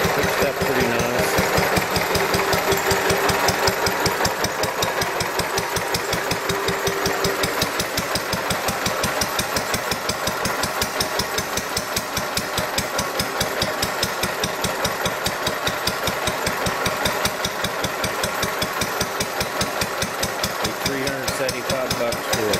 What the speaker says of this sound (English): It's idling up and down a little bit, pretty good.